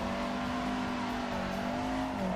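A Toyota AE86 engine held near full throttle in Assetto Corsa drones loudly and steadily, with a sustained tone and a slight pitch shift toward the end, close up and without voices.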